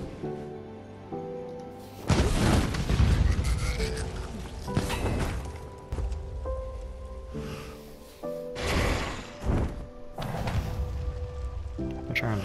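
A trebuchet firing in the Conan Exiles video game, heard as heavy thumping impacts and crashing bursts at irregular intervals over a steady tonal game hum, fairly close and loud.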